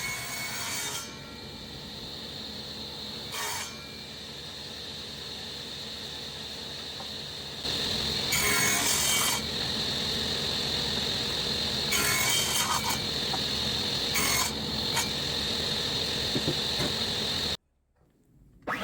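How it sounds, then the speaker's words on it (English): Waste is cut off an ash workpiece with a jig in a woodworking shop, a steady machine drone with louder bursts of cutting noise, close up, ending abruptly. "Next I used a jig I had laying around the shop to cut off the waste."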